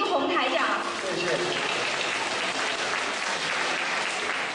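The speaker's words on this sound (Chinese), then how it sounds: "让我们再次用掌声感谢卢军宏台长。" Audience applause at a spiritual Q&A gathering in Frankfurt, Germany: a dense, even wash of clapping from a large crowd that holds steady throughout.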